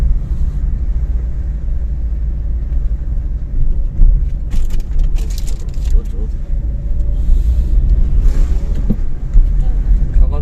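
A car descends a hill road on the drive from Nainital toward Varanasi in second gear, its engine giving a steady low rumble throughout with slight swells, while people talk inside the cabin.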